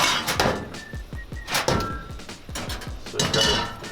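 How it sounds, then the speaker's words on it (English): Clanking metal as food goes into a preheated Dutch oven inside a camper van, with a quick run of sharp pot-and-lid knocks and clinks close by, no talking. "let's throw it in the Dutch oven"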